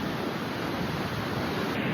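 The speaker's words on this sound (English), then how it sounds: "But look, like those waves are crashing." Ocean surf at Stinson Beach rolls as a steady, broad wash of crashing waves, loud and continuous with no breaks, mixed with some wind rumble on the microphone.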